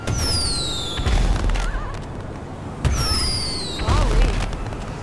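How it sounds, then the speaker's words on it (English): A fireworks launcher fires twice in GTA Online during an Independence Day update; each shot gives a falling whistle and a deep boom, spaced a few seconds apart over steady game background noise. "the first one being the fireworks launcher"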